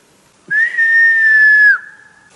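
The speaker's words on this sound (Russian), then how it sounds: "Свистни, где он там?" A single loud, sustained whistle in the forest, a clear steady tone held for over a second that drops at the end, with a fainter second whistle following.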